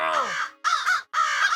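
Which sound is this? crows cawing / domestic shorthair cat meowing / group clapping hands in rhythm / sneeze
crows cawing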